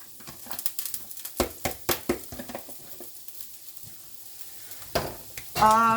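Diced onion goes into hot rice bran oil in a pan, with a series of clattering stirs and scrapes, then a sudden loud sizzle bursts up at the end.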